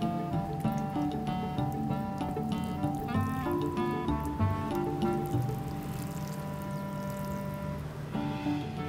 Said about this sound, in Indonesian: Dan kemudian kita siram.